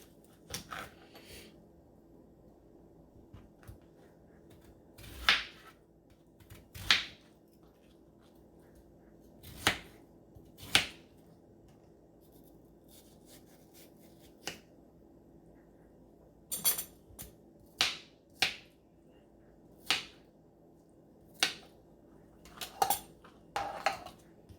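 A kitchen knife cuts through watermelon on a board, producing a series of sharp, clicky taps and knocks that come at irregular intervals, closer together toward the end, against a quiet room with no talking.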